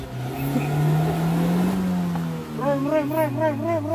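A campervan engine revs as the throttle is pumped, with a low drone rising and falling at close range, parked in a campsite. Someone speaks over it and a rising whistle-like pulsing comes near the end.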